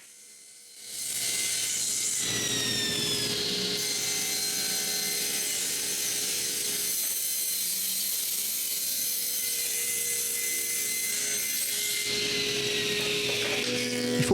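Power saw cutting through reclaimed wood to remove nail-holed sections for a Plinko game, a loud sustained whine starting abruptly and running steadily for over ten seconds before easing off near the end.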